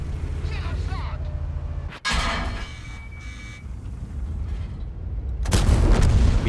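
Two heavy tank cannon shots in World of Tanks, each a sudden loud boom with a rumbling tail, the second louder and closer, amid game engine noise and someone talking.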